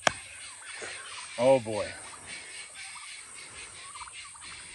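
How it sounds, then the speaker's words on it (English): Guinea fowl on a cattle farm give a short burst of harsh, rapid cackling calls at moderate distance, while someone speaks briefly over faint outdoor background noise. "Now you can hear the guineas."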